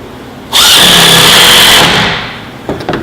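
A loud, close power drill drives a tapping screw during assembly, with a steady high whine for about one and a half seconds before it winds down, followed by a few light clicks.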